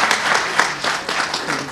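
Audience at a Romanian National Culture Day event in Moinesti applauding the mayor, close, lively clapping in uneven bursts throughout.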